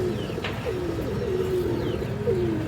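Two Giribaz pigeons in a mixed loft collection coo up close after a bath, drawn-out throaty calls rising and falling in a slow rhythm, with no one speaking.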